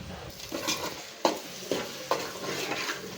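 A mint, coriander, clove, cinnamon and cardamom paste sizzles in a frying pan under a soft hiss, with three or four distinct sharp scrapes and knocks of a spoon against the pan, close by.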